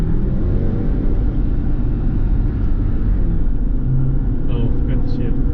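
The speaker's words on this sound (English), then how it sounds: "All right, so we're gonna see what the turbo do." A turbocharged Jeep Wrangler accelerates on the road, its engine a loud, close, steady rumbling drone that fills the whole stretch.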